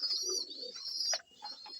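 Breeder pigeons in a home loft give a soft, continuous cooing at close range, with a brief sharper call partway through and no talking.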